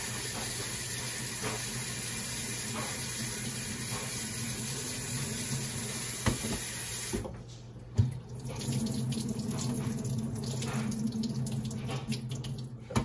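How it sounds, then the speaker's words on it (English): Hot tap water runs steadily into a kitchen sink while cooked macaroni is rinsed, a continuous close rush that shifts in tone partway through as the flow is disturbed, with no talking. "I rinse it off with hot water just because I don't want it to cool down too much"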